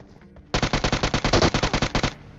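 An automatic gun in a battle royale video game fires a loud rapid burst of about sixteen evenly spaced shots lasting over a second and a half, close and alone.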